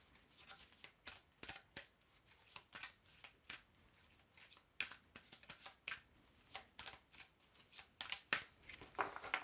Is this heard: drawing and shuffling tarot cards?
yes